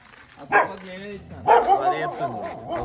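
Dogs give a couple of sharp barks and whimpering yips, mixed with nearby voices.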